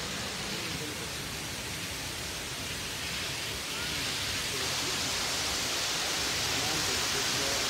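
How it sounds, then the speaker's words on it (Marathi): Water pours down from the full Terna dam in a dense, unbroken roar of rushing water that holds steady and close, filling the scene with constant noise. "आपण बघू शकता इथनं पाणी जाते खाली"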